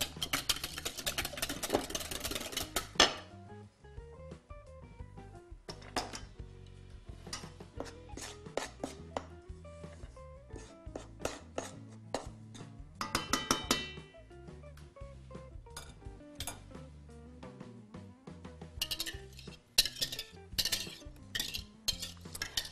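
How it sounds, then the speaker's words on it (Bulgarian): A utensil stirs salt into flour in a bowl for a dough, making a long run of close clinks and scrapes against the bowl in an irregular rhythm with no voices. "Още веднъж разбърквам и слагам в центъра на кладенчето от брашно."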